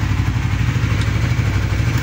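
Motorcycle engine idling close by with a steady low throb and faint clatter, continuous and fairly loud throughout.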